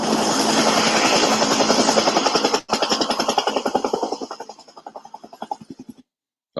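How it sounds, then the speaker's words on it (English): Helicopter landing at the Prince of Wales School, loud rhythmic rotor chop close by that slows and thins as the engine winds down, then stops. "Helicopter landed on site."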